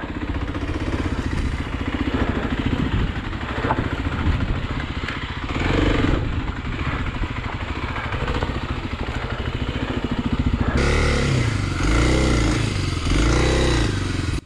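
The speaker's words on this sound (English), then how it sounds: "In this section here, I was giving it tons of throttle and clutching," Kawasaki KLX 250 dual-sport motorcycle on a rough enduro trail, its engine held at high revs with heavy throttle and clutch work, a loud continuous mid-pitched drone that surges and climbs sharply near the end, close to the rider.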